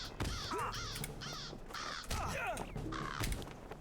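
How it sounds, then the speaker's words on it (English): Crows cawing in the Lord of the Rings Online game world, a series of about six harsh, raspy caws in irregular succession, fairly close and clear. "It sounds like crows."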